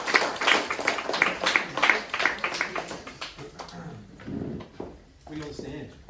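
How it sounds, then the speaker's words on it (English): Audience at a community information and recruitment night clapping to welcome two speakers, a brisk round of applause for the first few seconds that thins out into scattered claps under faint talk. "Give them a clap"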